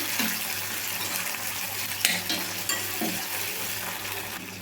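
Tomato pieces fry in a pan and are stirred now and then to soften them for a coriander chutney. The result is a moderate, continuous sizzle broken by a few scraping stir strokes, with no one talking.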